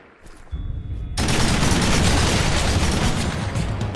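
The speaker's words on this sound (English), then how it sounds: "They're shooting at me!" Sustained dense gunfire from the video game Raven Squad, loud and continuous after a brief quieter lead-in, rapid overlapping shots and booms filling the scene.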